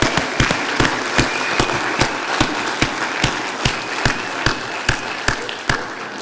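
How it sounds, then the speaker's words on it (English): Audience clapping in rhythmic unison at a leadership event, sharp evenly spaced beats over a steady bed of crowd noise, loud and close throughout. "How about a round of applause for our sponsors?"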